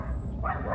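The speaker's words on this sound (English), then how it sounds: "Yeah, got a lot of dogs running around loose" Loose dogs in a small town, a short burst of barking and yipping heard from some distance, brief and moderately loud with no talking.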